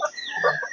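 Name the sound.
Peruvidai native chickens clucking on a farm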